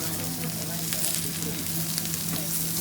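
Lamb cooking on a grill for Jingisukan, Hokkaido-style lamb barbecue in Otaru, Japan: continuous close sizzling and crackling fat with a steady low hum underneath and no pauses.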